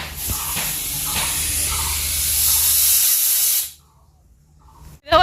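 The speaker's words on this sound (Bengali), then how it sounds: "এই তো একটা সিটি দিয়েই দিল তিনটা থেকে চারটা সিটি দিয়ে নেই আমি" A pressure cooker cooking khichuri lets out a loud, steady hissing whistle of steam that stops abruptly, followed by a short rattle.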